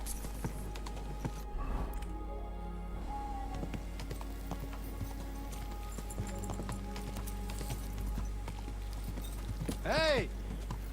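Horse hooves clip-clop along in the video game Kingdom Come Deliverance 2, a steady trotting rhythm under game ambience and a low background hum, with faint voices and a short rising whistle-like tone near the end.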